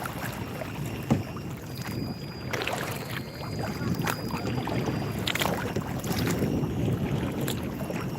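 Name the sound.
paddling a boat in the wind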